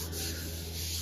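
Body filler on a Chevrolet C10 cab seam is sanded with an 80-grit block, making a brief, steady abrasive rubbing scrape, close and fairly even, with no talk.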